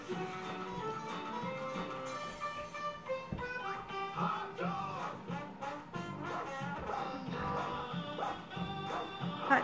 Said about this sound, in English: Look at that dog singing.